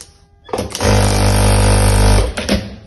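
An industrial straight-stitch flat sewing machine runs a short burst of about a second and a half of steady, loud motor hum and needle chatter. Brief mechanical clicks come before and after the burst.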